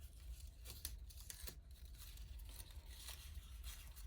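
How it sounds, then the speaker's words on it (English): Paper circles punched into a flower shape crumpled by hand, a soft steady crinkling with a few sharper tearing-like crackles, close and fairly quiet, no talking. "you can just keep crumpling it up to give it more dimension"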